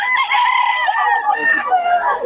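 Roosters crow and chickens call in Bocaue, several overlapping cries rising and falling close by, with a faint murmur of people in the background.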